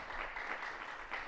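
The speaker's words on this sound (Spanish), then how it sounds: "Vamos a darle una ofrenda de palmas al Dios de la gloria." Congregation clapping in a church service, a steady dense wash of many hands applauding together throughout, moderately quiet and unbroken.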